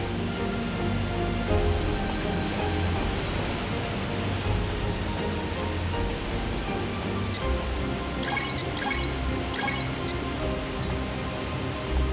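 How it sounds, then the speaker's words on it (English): Steady rushing water of a waterfall near a river by a village in the Shenmue II video game, a continuous broadband roar that holds constant throughout, with a few brief ticking clicks near the end. "That rain made this waterfall."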